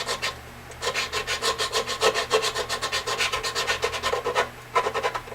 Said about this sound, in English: You can hear the file biting in when I do that too.